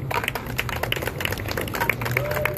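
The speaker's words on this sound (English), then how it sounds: "Clap it up for Hector." Audience at a school Q&A with film cast members claps for a cast member, a moderate, steady patter of many hands mixed with some background voices.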